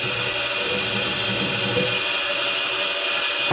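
A belt grinder runs continuously while a knife is sharpened on it, finishing with green compound under light pressure to remove the burr; a steady, loud, bright abrasive whir holds throughout with no talking.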